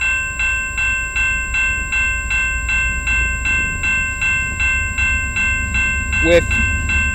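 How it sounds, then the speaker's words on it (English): A CN freight train, Q122, rolls past at close range, its wagons beating a steady, repeating clickety-clack rhythm over rail joints under a constant low rumble, with a brief sharp squeal near the end; a voice briefly speaks. "we got CN Q122 coming down the line."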